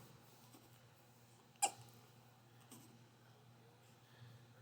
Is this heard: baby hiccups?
yes